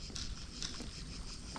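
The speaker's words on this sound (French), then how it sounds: "Mais la pluie là comme ça, magnifique." Steady rain patters during a bass fly fishing session outdoors, a soft continuous hiss with faint droplet ticks throughout, fairly quiet and close, with no voices.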